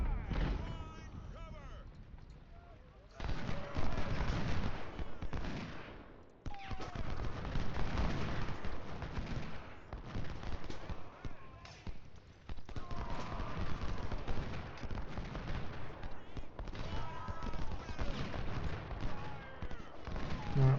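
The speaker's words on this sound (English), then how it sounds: "Our 24-pounders just opened up." 24-pounder cannons firing in Ultimate General: Civil War during a battle, repeated booming blasts amid continuous crackling musketry, with a voice talking over parts of the scene.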